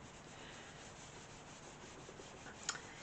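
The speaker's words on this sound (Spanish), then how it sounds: "le paso la lana de acero para quitarle los pequeños granos que saca" Steel wool rubbed over varnished wood coated in synthetic varnish, a quiet, steady rough scrubbing hiss that runs evenly throughout, with one brief sharp tick near the end.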